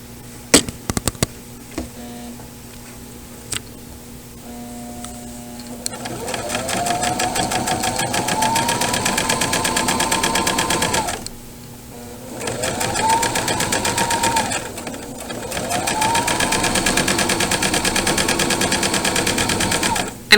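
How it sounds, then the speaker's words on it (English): A sewing machine stitches a pillowcase seam in steady whirring runs, starting after several seconds, pausing briefly, then resuming for another two runs, close and clear. "And then you are going to sew all the way down."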